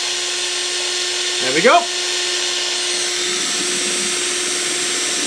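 A small washing-machine pump motor, fitted with a weak magnet and spun by hand as a generator, gives a brief rising whine over a steady background hum, with someone speaking a few words.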